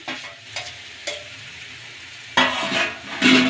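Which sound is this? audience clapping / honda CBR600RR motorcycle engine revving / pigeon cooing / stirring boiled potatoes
stirring boiled potatoes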